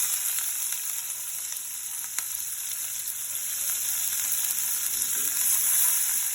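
Onions frying in hot oil with cardamom, cloves and cinnamon for a goat liver bhuna, giving a steady, close hissing sizzle that runs unbroken with a few faint crackles and no voices.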